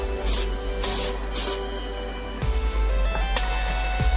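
A third coat of spray paint goes onto a car's gear shifter: a few short, close hissing bursts from the spray can, then longer sustained sprays with brief pauses between them.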